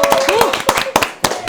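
A studio audience at a Korean talk-show taping claps in sharp, scattered bursts, fairly close and loud, mixed with a speaking voice and brief cheering.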